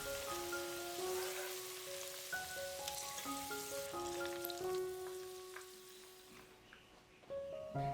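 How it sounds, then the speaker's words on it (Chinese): Starch-coated corn kernels deep-frying in hot oil give a steady, crackling sizzle throughout, with a melodic music track playing over it. "炸至表面金黄，浮起油面就可以捞出来了"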